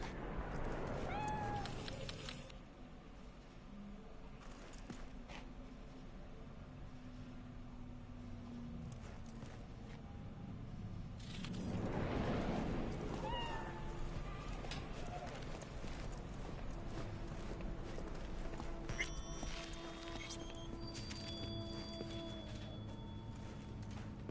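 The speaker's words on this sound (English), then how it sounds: "That's one ugly-ass cat." A cat named Mr. Brightman meows in Cyberpunk 2077, a drawn-out cry rising out of busy game ambience with background voices and other noises around it.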